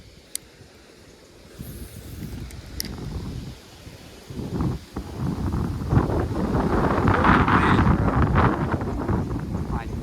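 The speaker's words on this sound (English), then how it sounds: "This wind." Wind gusting outdoors at a fishing spillway, a low rumbling buffet on the microphone that builds steadily louder over the clip, with faint rustling and a few brief clicks.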